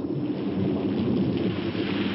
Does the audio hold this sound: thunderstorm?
yes